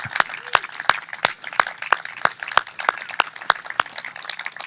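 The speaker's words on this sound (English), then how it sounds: "So a big round of applause for all of that." At an outdoor mural reveal, hands clap in a steady, sharp rhythm, a few distinct crisp claps each second rather than a full crowd roar.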